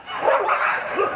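A stray dog gives one short bark that trails into a yip close by, with no talk over it.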